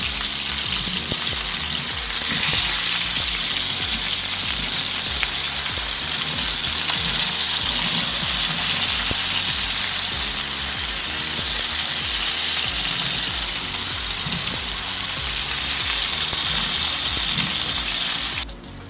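Bombay duck (bombil) fish frying in oil in a pan over high heat, a loud, dense, continuous sizzle with bubbling and occasional turning sounds, close and without voices until it cuts off at the end.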